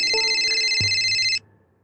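A phone rings in Sakura School Simulator while calling the police, a bright electronic ring tone playing steadily for over a second before cutting off abruptly, loud and close with a few small clicks.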